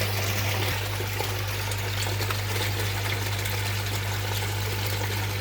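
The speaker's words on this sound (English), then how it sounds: "You can hear I've got the water running." Water running through a home-built filter setup with a T-piece, a steady rushing trickle and flow over a constant low pump hum, close and unbroken throughout.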